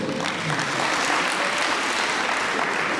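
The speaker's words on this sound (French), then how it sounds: "C'est vos applaudissements, vos étudiants." Dense, steady applause from an audience at a student talent show, loud and continuous without pause.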